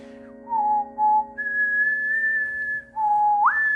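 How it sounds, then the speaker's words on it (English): A person whistling a series of clear sustained notes at different pitches with short pauses between them, ending on a rising note, close and alone over faint background hum. "these are the keys that I was whistling"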